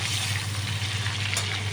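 Giant river prawns fry in a pan with a steady, close sizzle of hot oil, constant and fairly loud throughout with no voices.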